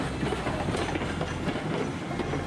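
Train in the video game Railroads Online rolling along with a steady rumble and faint rhythmic clatter of wheels on track, moderately close and continuous.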